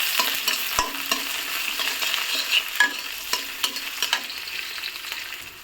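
Onions sizzle steadily in hot mustard oil for a pointed-gourd peel mash, with close, irregular clicks and scrapes of a spatula stirring through the pan and no voices.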